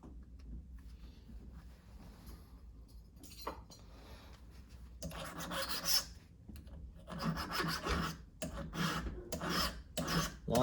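Hand file rasping across the cutters of a STIHL HEXA chainsaw chain, set against a West Coast saw gauge; a series of short, close strokes comes in bursts, getting denser and louder in the second half.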